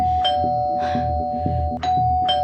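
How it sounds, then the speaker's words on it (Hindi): A home doorbell rings again and again on an early morning, steady electronic chimes repeating in quick succession over a low background hum. "कौन बेवकूफ है जो डोरबेल बजा बजा के नींद खराब कर रहा है सुबह सुबह?"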